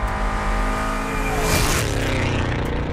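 A lowrider car in a racing video game revs its engine loudly and continuously, the pitch climbing and swelling through the middle before settling, with no talk over it.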